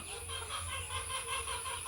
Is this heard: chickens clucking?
yes